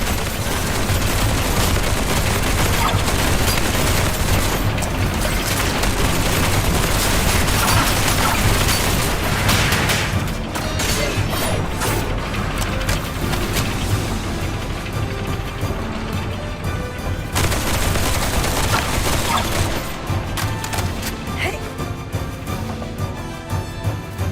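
Continuous turret gunfire and explosions while holding off a wave of Filthoids in the video game Duet Night Abyss, a dense, loud barrage that keeps going with brief dips and no clear pauses.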